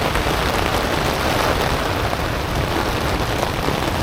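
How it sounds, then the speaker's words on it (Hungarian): Heavy rain pours down steadily in a dense, continuous hiss at close range, with no voices over it. "Szakad rendesen az eső."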